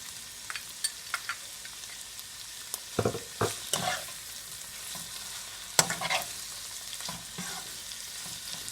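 Tomato paste sizzling and frying in a pot for a butternut squash and chicken dish, with intermittent scrapes and clanks of a spoon stirring it, close and fairly loud over steady high crackle.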